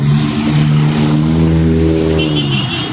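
Tricycles and cars pass in busy traffic, a loud, steady engine drone with rising and falling tones as vehicles go by close to the listener.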